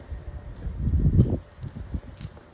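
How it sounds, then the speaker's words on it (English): Low, rumbling gusts of wind at an archaeological site buffet the microphone, swelling to a peak midway and then easing into softer, uneven puffs. "It's a little bit windy today"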